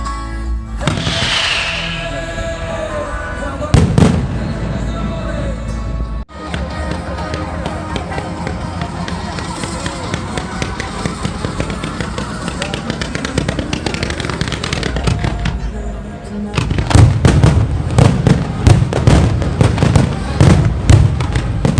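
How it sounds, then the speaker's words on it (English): Fireworks burst over a harbor during a music-backed display, with repeated sharp cracks and booms that grow denser toward the end, heard over music and a distant crowd. "we made our way up here to watch the fireworks, set to music"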